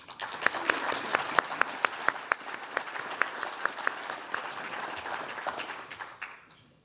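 Applause from a conference audience at an energy summit, a steady wash of many hands clapping with sharp individual claps standing out, fading away after about six seconds.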